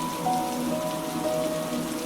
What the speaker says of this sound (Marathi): कौलांवर आदळणारा पाऊस, त्याचा सुखावणारा आवाज